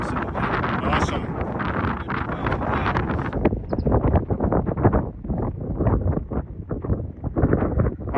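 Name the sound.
strong wind, about 32 miles an hour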